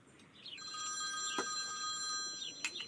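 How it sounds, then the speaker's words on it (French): A mobile phone rings with a repeating electronic bell tone, moderately loud, over a quiet indoor background with a brief clatter partway through. "Son téléphone n'arrête pas de sonner."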